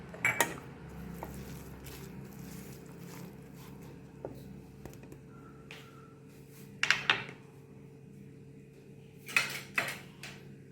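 Onion and chopped curry leaves being stirred in a pan while making fish varai, with a few clinks of a spoon against metal over a quiet background, no talk.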